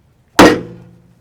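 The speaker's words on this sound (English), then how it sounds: "Let's try a little rope cutting with the MHK." A Vikings Blades MHK modern Hmong knife slices through 3/4 inch thick rope in one sharp, loud close stroke that rings briefly and fades over about a second.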